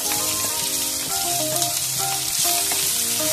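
Two chopped onions frying in well-heated coconut oil, a steady loud sizzle with occasional stirring scrapes throughout, no voices.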